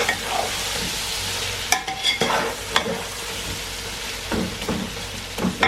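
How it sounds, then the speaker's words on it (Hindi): Chicken browned for palak chicken sizzles in a hot pan with spices, a steady fry hiss broken by several sharp scraping stirs of a spoon against the pan, with no voices. "अब इसके अंदर मसाले डाल देंगे। थोड़ा इसको भून के फिर टमाटर डाल देंगे।"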